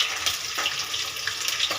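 Green chilies and onion fry with ginger garlic paste in hot oil, a dense, close sizzle that stays steady throughout the brief moment.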